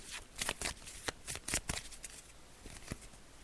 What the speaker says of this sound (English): I'm just shuffling the cards